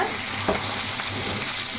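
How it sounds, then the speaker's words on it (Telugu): Meat, mutton or chicken, sizzles steadily in a hot pan once its water has cooked off, with soft stirring scrapes breaking through the continuous frying hiss at close range. "చక్కగా బాగా వేగిపోతున్నాయి"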